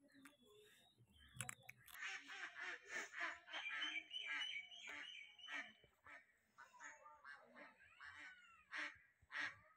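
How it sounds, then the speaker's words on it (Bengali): Ducks quack and honk in a steady run of calls, close and fairly loud, in a morning rural setting. "কি সুন্দর হাসিরা ডাকতেছে।"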